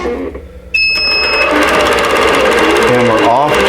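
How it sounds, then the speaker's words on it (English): A sewing machine starts up and stitches a quilted table runner, a steady loud whirring hum with fast rhythmic needle clatter that kicks in abruptly after a quiet moment and runs continuously. "So I already have my first stitch here. I'm going to hold my threads and hit start."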